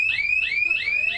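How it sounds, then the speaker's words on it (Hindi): A panic-button alarm siren on a Delhi electric DTC bus wails close and loud in fast repeating rising whoops, about three per second, with no talk over it. "पैनिक बटन अगर कोई दबाता है, कोई इमरजेंसी होती है, तो ऐसे में ये सायरन जो है वो आवाज करने लगेगा।"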